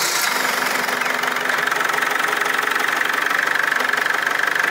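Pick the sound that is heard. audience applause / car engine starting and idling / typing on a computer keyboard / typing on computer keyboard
car engine starting and idling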